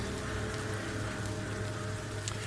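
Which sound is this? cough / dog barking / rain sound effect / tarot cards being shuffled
rain sound effect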